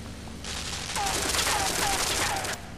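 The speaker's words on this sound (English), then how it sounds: "Thing tries to kill me by shooting at me." An enemy in the video game Limbo opens fire on the player: a dense, rapid volley of shots rattles on steadily for about two seconds at fairly close range, then cuts off sharply.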